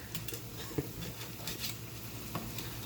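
Spaghetti sauce with browning meat is stirred in a pan, a sizzling, frying hiss broken by soft scraping and clinking strokes, close and continuous with no voices.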